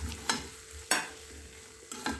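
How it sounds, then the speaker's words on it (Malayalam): A spoon stirs papaya pieces and fried prawns in a pan, with sharp scraping strokes at uneven intervals over a soft, low sizzle. "ഈ കഷ്ണമൊക്കെ ഇട്ട് നല്ലപോലെ ഇളക്കുക"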